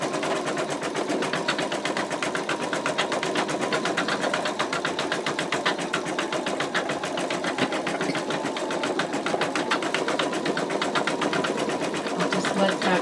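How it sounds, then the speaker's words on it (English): An embroidery machine stitches out an in-the-hoop wallet, a steady, rapid mechanical chatter that keeps a fast, even rhythm throughout, close and continuous with no talking over it. "I'll just let that go ahead and stitch for a few minutes so you guys can see."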